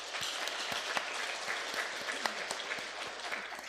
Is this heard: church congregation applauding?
yes